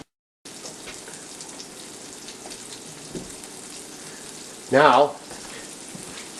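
Kasseri cheese frying in olive oil in a frying pan makes a steady, close sizzle and crackle throughout, with a brief spoken word partway through.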